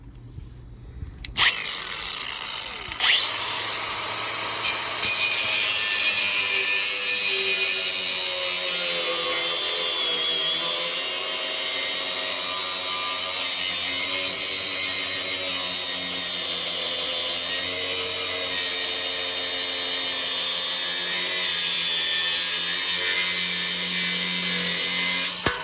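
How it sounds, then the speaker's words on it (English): An angle grinder cutting off the excess shaft of a condenser fan motor, a loud sustained whining grind that starts after a couple of sharp clicks and runs steadily for over twenty seconds. "Let's cut off the rest of the shaft off the motor that it's not being used."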